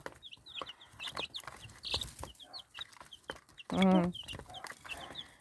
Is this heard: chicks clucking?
yes